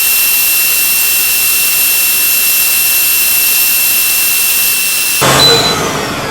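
An Xtool F1 laser engraver runs on real gold, a steady loud whine and hum with a high tone, shifting in texture near the end.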